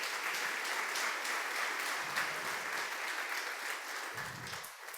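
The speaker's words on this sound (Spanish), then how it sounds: "Dale un aplauso al Señor." Steady crowd applause fills a church service as a congregation claps for the Lord, a dense, even wash of many hands sustained throughout at moderate loudness.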